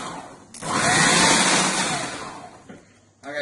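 A kitchen blender whirs loudly for about two seconds, its motor rising quickly to a steady roar and then winding down, close by with no talk.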